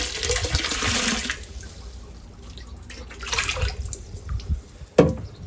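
Fish tipped from a container into an outdoor pond: a loud splashing pour at the start, then quieter water sloshes and a sharp splash near the end, with no voices.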